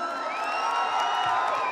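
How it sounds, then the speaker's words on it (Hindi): A crowd at a Bhuru Nag Devta village fair cheers and whoops together in a sustained, loud swell, with shrill high voices and faint clapping mixed in. "एक बार जोरदार तालियां हल्ला करके।"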